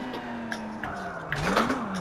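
A Porsche 911 GT3 engine in the WRC Generations rally game, holding a steady drone before a sharp clutch-kick rev surges and rises near the end.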